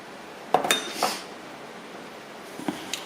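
A spoon or utensil clinks against a dish as sugar and red pepper flakes go into gyoza dipping sauce: a few sharp, close clinks early on, then faint scattered taps in a quiet kitchen.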